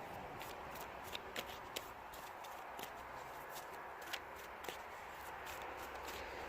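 Angels and ancestors oracle cards handled and shuffled close by, a steady papery rustle with a few sharper flicks and taps, over constant traffic noise from passing cars.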